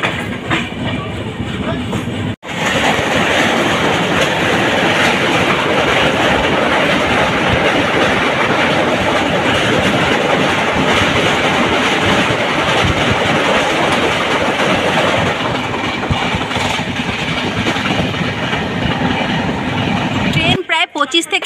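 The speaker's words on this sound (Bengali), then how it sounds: "ট্রেনের গতি একদম ঠিকঠাক যাচ্ছে, এক্সপ্রেসের মতনই ছুটে চলেছে" Dhauli Express 12821 running on rails between Santragachi and Puri, a loud, steady rumble of carriage wheels on track with rhythmic clatter, heard from inside the moving train, continuous for most of the stretch with a brief break near the start.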